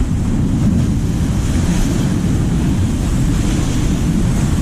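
Sea waves break against rocks along a rugged shoreline, a steady loud wash of surf with wind buffeting the microphone throughout and no clear gaps between surges.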